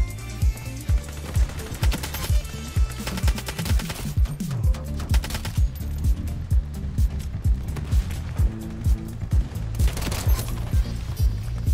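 Assault rifle gunfire in the shooter game Ironsight, long rapid bursts of loud, sharp automatic shots repeating steadily with brief pauses, dense and close throughout with no talk.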